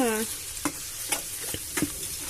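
Tomato and bitter gourd fry in a pan with a constant sizzle while a spoon scrapes through them in several short stirring strokes; no talking.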